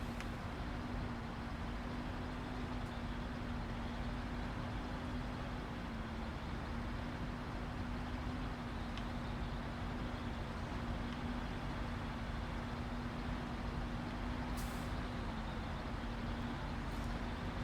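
GMC truck in the Snowrunner video game, its tires spinning as the engine holds a steady drone with a constant tone throughout, with no talk over it.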